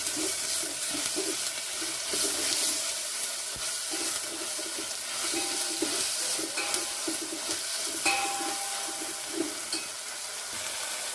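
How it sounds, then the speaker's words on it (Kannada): Ginger garlic paste frying in oil in a home kitchen pan, a steady close sizzle with scraping stirs and clinks of a spoon against the pan, no talking. "ಈ ಹಸಿ ಶುಂಠಿ ಬೆಳ್ಳುಳ್ಳಿದು ಸ್ವಲ್ಪ ಹಸಿ ವಾಸನೆ ಹೋಗೋವರೆಗೂ ಫ್ರೈ ಆಗಿದೆ"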